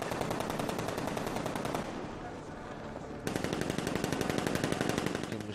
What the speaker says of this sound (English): Machine guns.